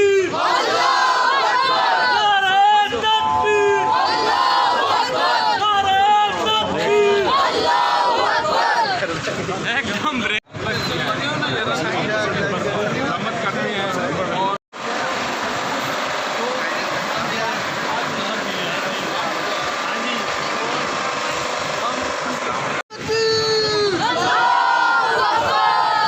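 A large crowd at a rally chants Pakistani nationalist slogans in loud unison, call-and-response waves of shouting that continue throughout with only brief cuts.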